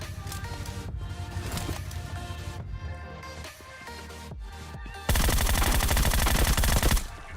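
Loud, sustained video game gunfire crackles in rapid bursts, swelling into an intense barrage near the end.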